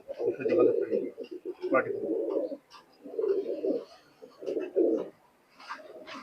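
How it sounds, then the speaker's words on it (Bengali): Imported teddy pigeon babies coo in soft, repeated bursts close by, with people talking in the pauses between the calls. "এখানে কি কবুতর আছে এখানে"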